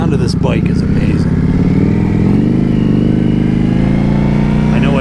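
Engine and exhaust of a 2025 Indian Scout Bobber motorcycle, a steady, loud low rumble that rises slightly in pitch midway, with a voice talking over it throughout.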